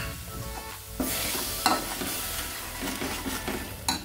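Spices cooking down with salt and tomato paste in a pan for a fish curry: a continuous sizzle broken by several sharp scrapes and stirs of a spoon.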